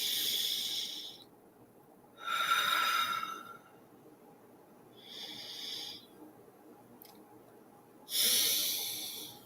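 Slow deep breathing during a seated relaxation: long, hissy inhales and exhales alternating in a calm rhythm, close and clear, with no talk.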